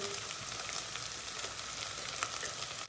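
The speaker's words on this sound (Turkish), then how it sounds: "Kıymamız iyice kavruldu. Altından çatır çatır sesler geliyor." Ground meat sizzles and crackles steadily in a hot pan, with scattered sharp pops over a continuous frying hiss.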